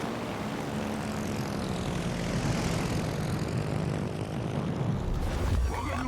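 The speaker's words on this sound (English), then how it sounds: "A lot of airplanes just shot down by air fighter planes." Propeller aircraft engines from the World of Warships Legends video game drone steadily for several seconds, a loud throbbing roar that swells slightly before easing off near the end.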